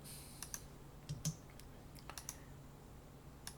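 Keyboard typing and mouse clicking while drafting an elevation drawing in a CAD program, with sparse, light taps and clicks scattered over a low background hum.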